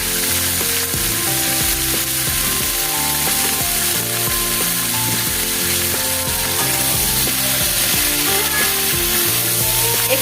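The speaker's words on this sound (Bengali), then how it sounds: "দিয়ে একটু ভালো করে ভেজে নেবো" Steady, loud sizzling of vegetables and tengra fish frying in a pan with turmeric and salt, continuous throughout, with a melodic tune playing underneath.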